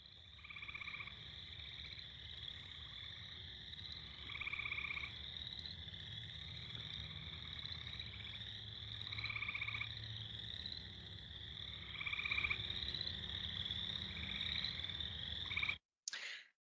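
Chorus of Minnesota frogs and toads calling at night by a roadside, steady high trills with repeated pulsed croaking bursts every few seconds over a low background rumble, continuous and fairly distant, no voices.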